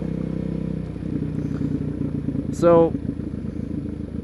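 A motorcycle engine idles in a steady low rumble after a clutch check, with a brief rising chirp near the end, close and fairly loud while one word is spoken.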